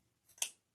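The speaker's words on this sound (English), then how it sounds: "I'm just going to cut this at a diagonal" A single quiet snip of scissors cutting diagonally through 1.5 inch ribbon, a brief close crisp cut in a hushed room.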